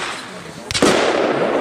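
The 'Wild Shots' firework battery, a 100-shot cake, fires at a cellar demonstration: a sharp single burst followed by a crackling, fizzing spread that decays under outdoor background noise.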